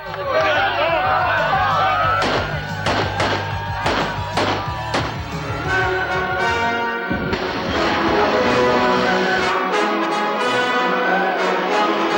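The Vulcans cheer together at the 1992 Minnesota Winter Carnival ice palace just before its demolition, a loud group shout and babble with a steady low hum underneath, then fading into crowd noise.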